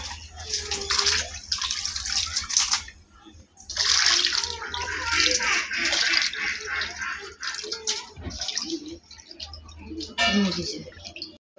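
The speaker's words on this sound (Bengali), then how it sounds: "যে মাছ ধুয়ে রেখে দিচ্ছি" Running water splashes from a tap over small puti fish being washed by hand, a steady close rush broken by short pauses and handling sounds.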